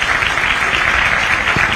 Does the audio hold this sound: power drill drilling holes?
no